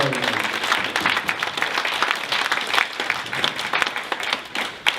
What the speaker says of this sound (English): A round of applause for the ushers and the